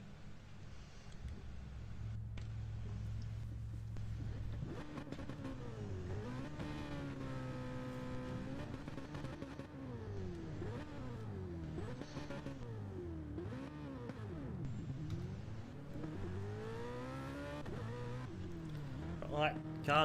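Race car engines from a sim racing game at Interlagos sound continuously as the cars pull out of the pits, loud revving pitches rising and falling over a steady low engine drone, with a commentator talking over them.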